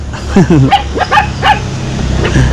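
Puppies barking and yipping close by in a quick cluster of high, excited barks, tailing off into a softer whimper, with low background noise throughout.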